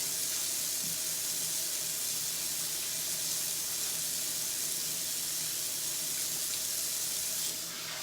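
Water runs steadily from a kitchen tap during handwashing, a continuous soft hiss and splash at close range with no talking.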